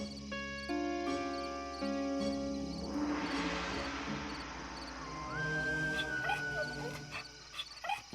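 Cartoon mother dog whimpering and whining from hunger, with a dense noisy wash and tonal cartoon music or effects under it; the crying runs continuously at close range across the whole stretch.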